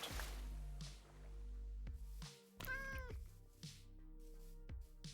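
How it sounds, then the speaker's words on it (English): A cat meows once in Minecraft, a short rising and falling tone heard clearly amid steady background game music and ambient sound. "I noticed a kitty running around"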